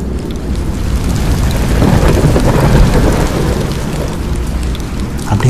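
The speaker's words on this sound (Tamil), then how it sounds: "அப்படியே மெதுவாக மழை பெய்ய ஆரம்பிக்குது." A loud, steady downpour pours down without a break, joined by deep rolling thunder rumbles, like a storm heard from a train. No one speaks.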